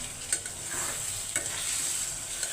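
Lentils fry with spices in a pan, a close steady sizzle with bursts of scraping as they are stirred, no voices.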